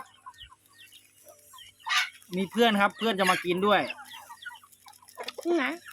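Chickens cluck and call in an outdoor yard, a few short bursts close by, mixed with someone talking over them.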